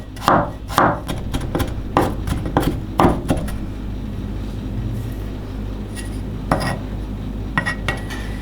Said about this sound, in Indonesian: Jeruk juga sama, kita cincang halus.